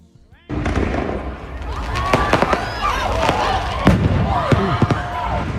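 Fireworks set off at a concert burst in a rapid run of sharp bangs, pops and crackles over a constant loud roar of the crowd.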